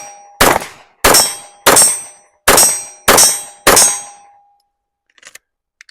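Six loud, ringing metallic clangs spaced roughly half a second apart, each decaying into a resonant tone, during a pistol reload with the magazine dropped and a fresh one seated, followed by a few faint clicks.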